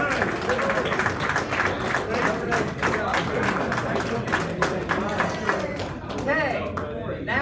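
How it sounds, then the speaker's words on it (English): An audience at a Startup Weekend event breaks into a round of applause, dense, steady clapping filling the room for several seconds with a faint murmur of voices underneath. "Give yourself a round of applause."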